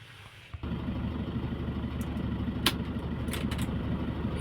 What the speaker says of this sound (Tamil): வண்டி ஸ்டார்ட் பண்ணிக்கலாம்.